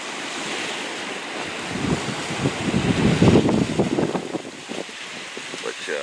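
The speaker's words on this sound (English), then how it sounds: "Hopefully that wind's not blowing too hard." Wind gusts buffet the open air beside Lake Nocona, a steady rushing hiss that swells into louder buffeting in the middle before easing, with no voice heard.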